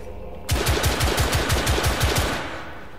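In the video game The Order: 1886, a rapid burst of about a dozen gunshots rattles out in an even rhythm, loud and close, then fades into a short tail. No voices are heard.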